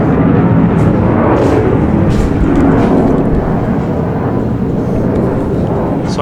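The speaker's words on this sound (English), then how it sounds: "Sorry about the plane noise." A plane passes overhead above an industrial area, its loud, steady broadband roar filling the whole stretch and barely changing in level, with no other sound standing out.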